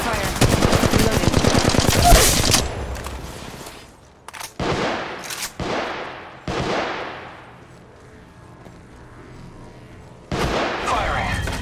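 Bursts of automatic gunfire from Apex Legends Mobile on Android ring out loud and close, several rapid volleys separated by pauses, with in-game voice callouts between them.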